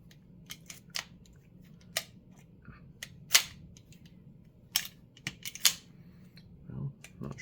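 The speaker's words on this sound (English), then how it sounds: "We'll do a safety check on it here. Oh, I don't have the magazine put in all the way." Metal clicks and sharp snaps of a 1967–68 Colt Gold Cup National Match pistol being handled, its magazine seated and the action worked during a safety check, several distinct close clicks spread irregularly over a low hum.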